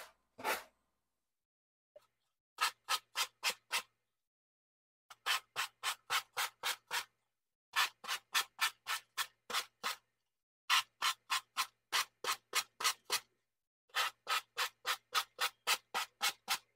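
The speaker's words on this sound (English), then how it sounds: "let's go ahead and we'll use our sanding block this time" A sanding block is rubbed over the edges of a wood round in quick bursts of six to eight strokes each. The scratchy strokes are close and crisp, with short pauses between the sets.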